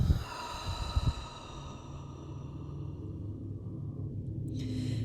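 A person breathes out slowly during a guided breathing exercise, with a soft, audible exhale and a brief snort near the start fading into quiet breath noise.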